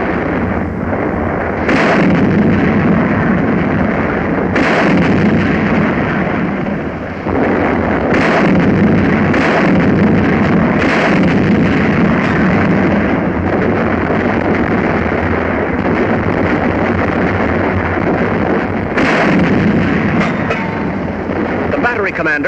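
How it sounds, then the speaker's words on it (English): British 25-pounder artillery guns firing in North Africa, loud booming reports recurring every few seconds over continuous heavy rumble, with a narrator's voice running throughout. "British 25-pounders open up"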